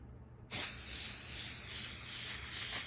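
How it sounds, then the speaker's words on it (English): After a moment of quiet, a steady aerosol spray of adhesive hisses continuously up close onto a large paper flower petal, loud and even until the end. "Just spray it all across your petal."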